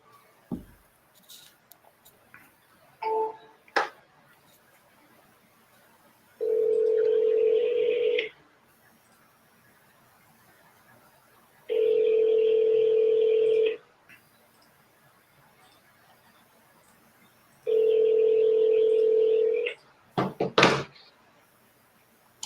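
Three evenly spaced bursts of a telephone ringback tone play alone after a call is forwarded, each lasting about two seconds with quiet gaps between, plus a few faint clicks.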